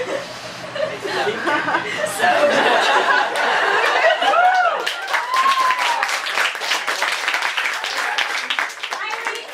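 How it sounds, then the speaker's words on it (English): An audience at a senior speech event claps in a loose, building patter, mixed with chuckles and laughter from the crowd. Voices murmur underneath as the clapping swells and lingers. "What are we clapping for?"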